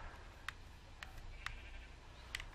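Sheep bleat in the Minecraft video game, a few short, faint, evenly spaced bleats set against a low, steady background hum, with no speech.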